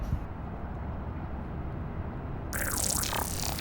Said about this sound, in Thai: ต่อมานะครับทำการถ่ายน้ำมันเกียร์นะครับผม